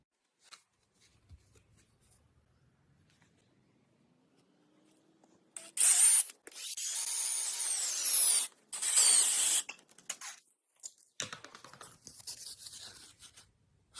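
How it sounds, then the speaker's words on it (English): A power drill whines up, then bores in loud, high-pitched bursts with brief pauses, followed by softer scraping and clatter. "I'm just going to drill straight down"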